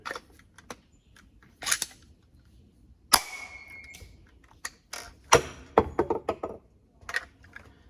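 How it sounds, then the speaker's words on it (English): A 3D-printed Wildstyle Nerf shotgun pistol is primed and fired with foam darts, giving scattered sharp plasticky clacks and pops, some in quick clusters, with handling rattles between shots, fairly close and moderately loud. "We got the blaster here, it has a T-pull on the back, and then it's just a simple trigger pull to fire"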